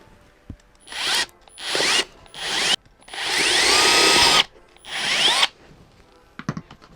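A power drill bores holes through a shoe to mount a skate plate, running in five distinct bursts of whirring with short pauses between, loud and close, followed by faint clicks.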